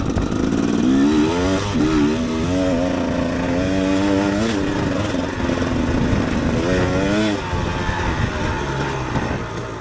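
Two-stroke KTM EXC 250 dirt bike ridden off-road, its engine loud and close throughout, revving up and down in repeated rising and falling sweeps as the rider works the throttle.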